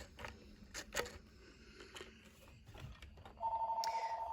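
A phone rings in a sewing workshop, with a short electronic ringing burst near the end that follows faint handling and tapping noises. The ringing is fairly quiet and nobody speaks.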